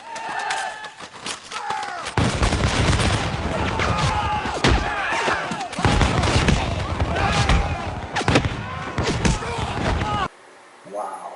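Soldiers standing in line fire a musket volley, and loud, close gunfire bursts crack and roll one after another for several seconds. Voices react around the shots.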